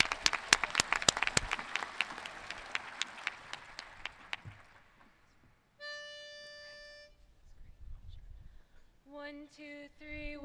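A dense burst of audience applause at a university welcome event fills the first four seconds, then fades as sustained harmonic singing tones from an a cappella group take over.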